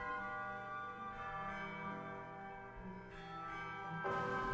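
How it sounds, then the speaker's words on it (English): A bell tolls in a video game, a sustained ringing tone with lingering overtones, faint and steady, with a fresh strike near the end and no talking. "The bell tolls."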